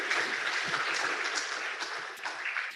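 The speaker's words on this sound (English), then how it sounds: "Give applause to us." Short burst of audience applause at a Faculty of Law seminar at Universitas Islam Indonesia, moderately loud clapping filling the moment.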